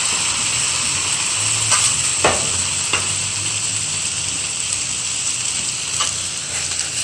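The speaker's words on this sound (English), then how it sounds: "Look how quickly they scramble up on the Blackstone." A dozen eggs fry and get scrambled on a hot Blackstone griddle, a steady loud sizzle and hiss with occasional scraping stir strokes from a spatula, no voices.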